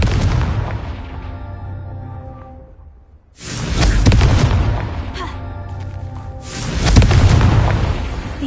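Confringo explosion spells from Hogwarts Legacy bursting in two heavy booming blasts, each a broad roaring detonation that decays over a couple of seconds, separated by a brief near-silent gap, loud and close.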